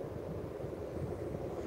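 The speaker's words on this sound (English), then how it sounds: "Windy wind is windy" Wind buffets a microphone outdoors near Arnhem Bridge, a low, rough rumble of gusts that stays steady and fairly quiet, with no speech.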